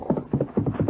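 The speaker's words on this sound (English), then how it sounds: "There's Blackie's horse." Horse hooves clip-clopping in a 1941 western radio drama, a brisk steady rhythm of paired hoofbeats, close and clear, with no talking.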